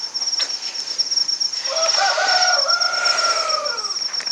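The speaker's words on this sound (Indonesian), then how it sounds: "sudah terdengar suara ayam berkokok ya" A single rooster crow rings out, fairly near and drawn out, set against a steady chorus of chirping crickets at night.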